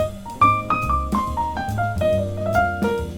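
Improvised piano playing, a short flowing phrase of single notes over low bass tones at a steady moderate tempo, clear and close with no talking.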